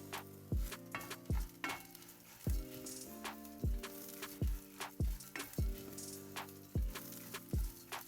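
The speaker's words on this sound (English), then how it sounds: "So it's been frying about 2 to 3 minutes" Fideo noodles sizzle steadily in a hot pan while a utensil scrapes and knocks against it in a repeated stirring rhythm.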